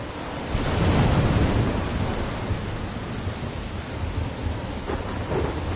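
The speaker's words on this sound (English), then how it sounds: "I'm trapped in a storm?" Heavy rain and rolling thunder in a PS4 video game storm by a lighthouse, a dense continuous downpour with a deep rumble swelling early then easing, loud and close.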